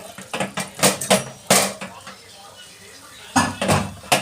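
Food is stirred in a cooking pot with coconut oil, a utensil scraping and knocking against the metal in bursts, with pauses between strokes, close and fairly loud.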